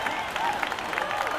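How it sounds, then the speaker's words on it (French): A crowd claps and cheers for a finisher at the Red Bull Ocean Rescue beach race near Miramar beach, with brisk, steady applause under an announcer's commentary. "Qui se fait applaudir par la foule chez elle à domicile."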